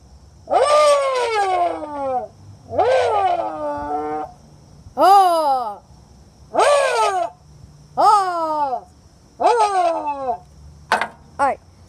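Lamborghini engine sound imitated by a voice blowing into a tin can, giving about seven loud, close, rising-and-falling revving howls in bursts with short pauses between.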